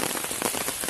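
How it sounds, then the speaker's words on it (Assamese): Steady rain pours down outdoors in wet weather, a dense close hiss of drops hitting surfaces that continues evenly with no talking. "ছাতি লৈ আহিছোঁ আৰু বৰষুণ দি আছে"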